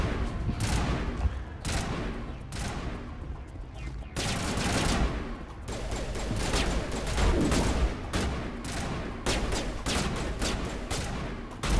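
Dense bursts of sci-fi gunfire in Mass Effect, overlapping volleys and rapid automatic shots firing almost continuously, loud and close throughout.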